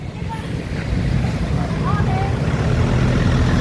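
Heavy road traffic on the route from Manila to Bicol forms a dense, continuous rumble of vehicle engines and wind noise close to the microphone, building slightly and holding steady.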